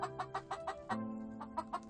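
A hen inside a chicken coop, about to lay an egg, gives a rapid series of soft, close clucks in short rhythmic bursts, with a brief pause midway before the clucking resumes.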